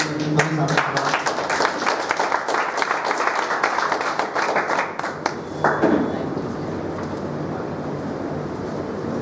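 Audience clapping at a talk, a dense burst of applause that gradually thins and fades out midway, with some voices underneath.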